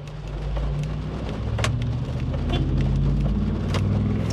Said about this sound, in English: it is pouring rain outside. It is absolutely beautiful. I just love the sound of the rain.